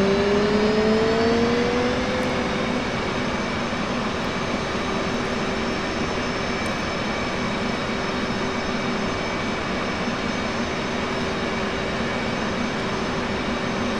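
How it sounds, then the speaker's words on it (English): The twin jet engines of an F/A-18C Hornet in the DCS flight simulator spool up, a rising whine that levels into a steady, loud turbine hum and rumble holding for the rest of the stretch. "Olha o barulho do motor, senhores."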